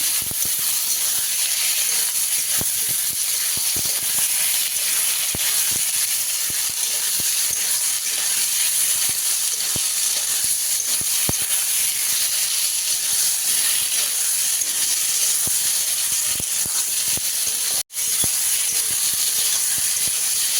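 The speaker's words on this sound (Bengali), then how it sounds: "এই মশলাটা একটু নাড়াচাড়া দিয়ে নেবো, ঝিঙে আলুর সাথে কষিয়ে নেবো মশলাটা।" A spice paste with turmeric and salt fries alongside ridge gourd and potatoes in a pan, giving a loud, steady hiss broken by scattered clinks of stirring for about twenty seconds.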